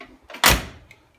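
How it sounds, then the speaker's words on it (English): A 1974 Alfa Romeo Spider car door being opened, with a single close, sharp metallic clunk of the latch and a short rattle that fades out quickly. "open the door."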